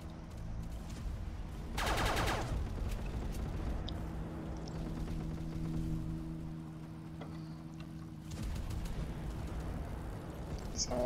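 Gunfire from a gun in Roblox Base Battles, with a burst of rapid automatic shots near the start, another round of firing later, and a steady engine-like drone underneath throughout, with no talk.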